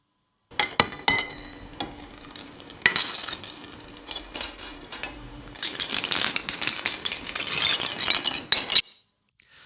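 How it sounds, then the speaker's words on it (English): Coins roll and clink across a glass table in an AI-generated sound: a busy stream of bright glassy ticks and rattles that thickens toward the end, with no voices. "coins on a glass table rolling"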